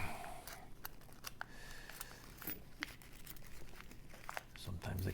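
A plastic nickel coin roll wrapper crinkles and crackles in the hands, a series of sharp, close, quiet crinkles and clicks scattered over a few seconds.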